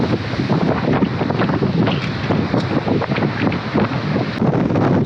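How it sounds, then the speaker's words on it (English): Strong, cold wind gusts over an open coastline, roaring steadily and loudly across the microphone with a constant buffeting rush and no let-up. "you can see the wind that's coming in, it's really very strong"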